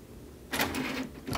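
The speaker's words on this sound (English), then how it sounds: "A push of the button loads the tray back into the printer" Motorized whir of the CD tray drawing back into an Epson Stylus Photo PX710W multifunction printer, a quiet pause and then a mechanical grinding run of about a second, close by, ending with a short click-like burst.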